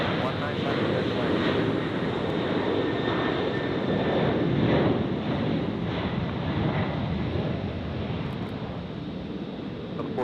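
A fixed-wing airliner coming in to land on runway 19 left at Tampa International Airport gives a continuous, loud engine roar mixed with wind-like rushing for the full stretch, steady and unbroken.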